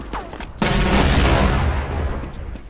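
An explosive gun in the old Counter-Strike game fires as one loud, broadband blast that starts suddenly and rolls on for about two seconds, with a faint voice just before it.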